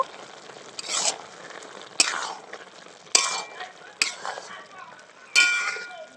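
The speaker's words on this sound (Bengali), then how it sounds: "এবার আমি 1 চামচ ঘি দিয়ে দিচ্ছি। একটু নেড়ে নেব।" A spoon stirring ghee into shukto, a Bengali mixed-vegetable dish, in a pan: five or six distinct scraping, clinking strokes spaced about a second apart over a quiet background sizzle, close by.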